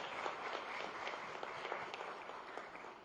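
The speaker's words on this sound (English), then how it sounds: "Please welcome with a round of applause" A round of applause at a government MoU signing ceremony, with many audience members clapping at once. Individual claps stand out sharply within a steady, moderately loud patter that eases a little toward the end.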